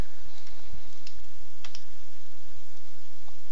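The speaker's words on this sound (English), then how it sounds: "Then you want to type in the following command." Typing a git command on a computer keyboard: a quick run of close, light key clicks at an uneven pace, with a few brief pauses and no talking.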